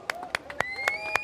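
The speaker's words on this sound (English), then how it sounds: "And let's give them an applause." A handful of sharp claps spaced in a loose, uneven rhythm at an outdoor Dublin protest against ISIS, with a thin tonal sound running alongside.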